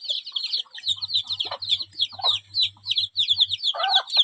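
One-month-old Muscovy ducklings peep in rapid, high-pitched bursts, many small voices overlapping close by, with a low steady buzz underneath for part of the time.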